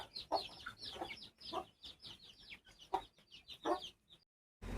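Chickens cluck and squawk in a busy, overlapping chorus, fairly close, ending in a brief silence before a final burst.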